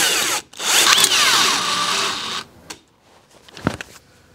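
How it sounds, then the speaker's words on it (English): A power drill bores into a ratchet strainer clamped in a vise, a loud steady whine for about two seconds, then a brief pause and a couple of short, sharper bursts as the bit works slowly. "Pop it into the vise. And get drilling."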